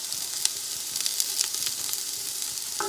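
Grated fresh ginger fries in a pan for vegetable fried rice, giving a steady close hiss of sizzling oil with scattered small pops and crackles throughout.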